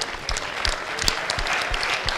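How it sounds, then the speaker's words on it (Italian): Audience applause at an Italian studio show as the governor stands up to be recognised, a dense steady clapping lasting about two seconds, close and fairly loud, with no talking over it. "facciamo un applauso"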